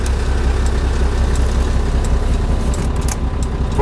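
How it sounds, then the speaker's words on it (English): A truck engine idles steadily and close by during a pre-trip inspection, a continuous low rumble with no talk over it. "Start the truck."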